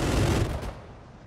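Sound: gunshots in video game Arma 3

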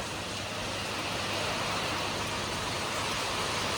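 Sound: heavy rain

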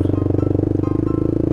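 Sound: motorcycle with racing exhaust

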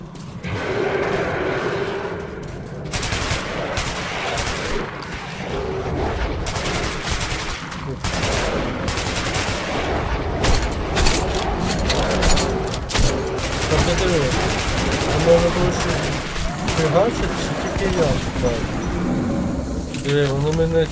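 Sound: automatic rifle gunfire in video game Metro Redux

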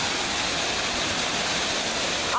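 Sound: waterfall

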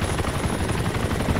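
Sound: helicopter in the video game ARMA 2

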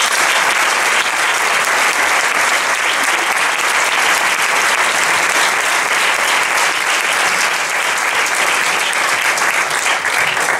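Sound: audience applause

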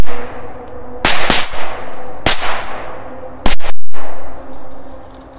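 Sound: firecracker explosion

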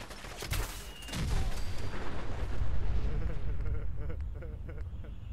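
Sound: Fat Man nuke explosion in video game Fallout 4

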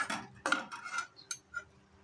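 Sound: stirring goat brain curry with coriander leaves in pan

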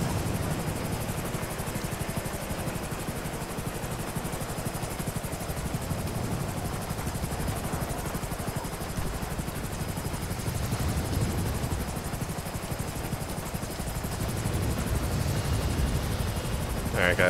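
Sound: helicopter hovering overhead

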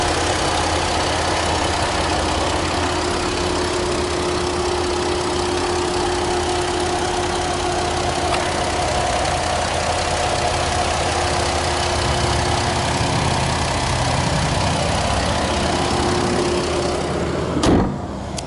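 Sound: 2012 Jeep Liberty 3.7 liter V6 engine idling

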